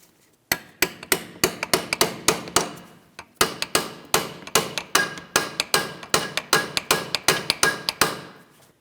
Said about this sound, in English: Now we can continue on with a hammer and a chisel in between these two ears.